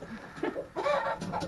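Chickens cluck softly in a coop, a few short fowl calls rising near the end over low background noise.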